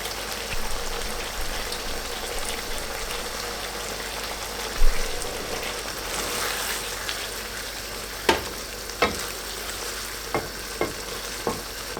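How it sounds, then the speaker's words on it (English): Chunks of Angus beef simmer in a covered pan over low heat for a shepherd's pie, giving a steady soft sizzle and bubbling with a few sharp pops and spits near the end. "we're going to let this beef settle and relax and everything just cook together"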